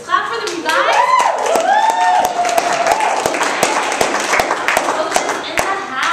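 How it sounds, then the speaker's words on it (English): Audience at a fitness company event claps and cheers for coaches standing up in the room, sharp nearby hand claps over excited whooping and a voice talking through it. "Let's clap for them, you guys."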